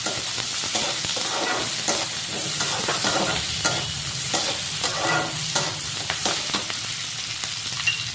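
Carrot and capsicum stir-fried for restaurant-style fried rice, a constant sizzle punctuated by repeated scraping strokes of a spatula in the pan, close and steady, with no speech.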